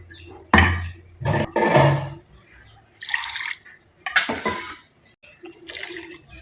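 Ground spice paste for bitter gourd kuzhambu being poured into the pot in several wet, splashing bursts separated by short pauses, close and fairly loud, with the container rinsed and emptied in too.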